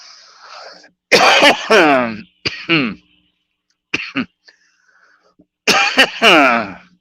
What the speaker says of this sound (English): I could stop coughing, stop it.